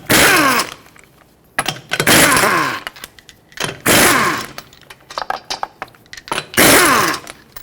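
An impact wrench with a 21 mm socket spins lug nuts off a 2006-2010 Hyundai Sonata wheel, sounding as four loud, close whirring bursts with brief rattling taps and handling clatter in the gaps.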